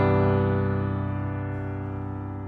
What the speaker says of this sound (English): All right, so let's go ahead to the major ninth chord.